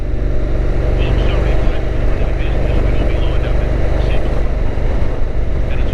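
Steady road traffic flowing after freeway congestion on the ride into Byron Bay, heard as a continuous, fairly loud engine and tyre rumble close by, with a constant low drone and no breaks.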